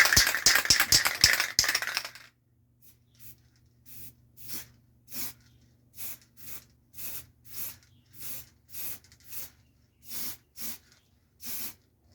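A paint can shaken hard: a dense burst of rapid rattling, then a run of about a dozen evenly spaced rattling strokes, close and fairly quiet, with no voices.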